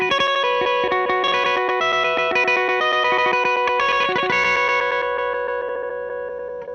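LVX modulation pedal running a glitchy granular effect, dense shimmering chopped tones stuttering and repeating with bell-like ringing, loud and continuous, slowly fading at the end.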